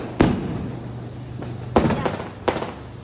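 Diwali firecrackers go off close by in a few sharp, loud bangs, one early and a quick cluster of three later, each with a short crackling tail.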